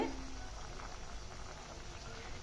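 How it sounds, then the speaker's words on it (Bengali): Raw jackfruit pieces with turmeric, chili powder and salt sauté in a pan for a curry, giving a steady, moderately loud sizzle that holds throughout. "কাঁচা কাঁঠালগুলো কষানো হচ্ছে"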